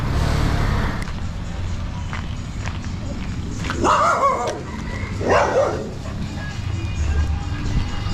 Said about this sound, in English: it's quite a chill house dog